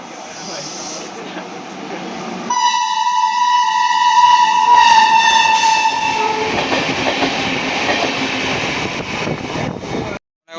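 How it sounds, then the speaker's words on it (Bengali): A train pulls into Hooghly station, sounding a loud, sustained horn as it arrives, over the heavy rumble and clatter of the cars rolling in; faint voices are audible in the background. "আমাদের ট্রেন চলে এসছে, আসছে ওই যে"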